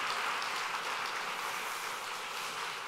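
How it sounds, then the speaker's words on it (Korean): An audience at a Korean Baptist ordination service claps steadily in welcome for the families, forming a dense, even wash of applause with no voices. "우리 환영의 박수 해주시기 바랍니다"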